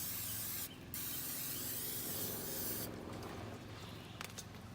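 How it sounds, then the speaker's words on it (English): Cooking oil spray coats food in a couple of faint, breathy hissing bursts, the first short and the second longer, heard close but quiet, with no one talking. "We're gonna give it a little coat of spray."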